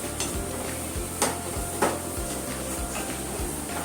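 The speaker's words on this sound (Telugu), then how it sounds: "హై ఫ్లేమ్లో మనము ఫ్రై చేసుకుంటాం." Vegetables for cheese pasta frying over a high flame, a steady close sizzle broken by rhythmic stirring scrapes and a few sharper clinks of the utensil against the pan, with no talking.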